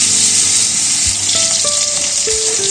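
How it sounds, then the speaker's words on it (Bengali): Potatoes fry lightly in a pan for a potato curry, a loud, continuous dense sizzle filling the whole stretch with a few faint tonal clinks underneath and no talking. "এই আলুগুলো হালকা ভেজে নেব"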